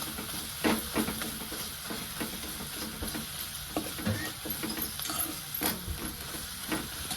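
Tomatoes and salt being stirred while frying in a pan for sprouted matki bhaji, a steady sizzle and hiss with scraping spoon strokes close up.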